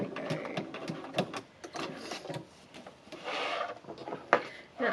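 Hand stitching a backpack with a top stitch needle, the needle and thread pulled through pre-punched holes with repeated scratchy rubbing strokes and soft clicks, close and unhurried, with no talking.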